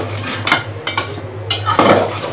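Sweet pumpkin morabba stirred in a cooking pot, a utensil scraping and clanking against the metal in several distinct bursts over a steady low hum, close and fairly loud with no talking.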